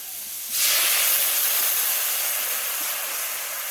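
Water poured into a hot pan of radish and fish curry, seasoned with turmeric and salt, sets off a sudden loud hiss of steam that holds steady and fades only slightly.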